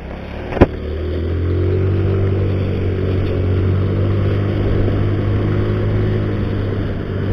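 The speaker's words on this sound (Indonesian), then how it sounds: "kita langsung saja dan langsung naik motor ini ya" Steady low engine drone of a motorcycle cruising along, with a brief sharp knock near the start and constant road and wind noise throughout.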